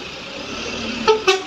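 A truck in slow holiday traffic on a busy road, with a steady engine rumble and road noise and two short horn toots near the end.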